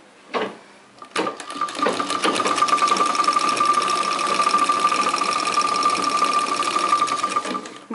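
A sewing machine runs steadily, stitching cloth to cover a seam in a beginner tailoring lesson, after two short taps at the start; the whirring hum is close, loud and continuous, with no voices.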